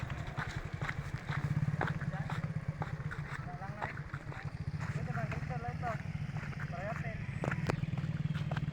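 A motorcycle bounces along a very rough, broken road near a river in El Nido, Palawan, its engine droning steadily and loud throughout with rattling jolts, while someone talks over it.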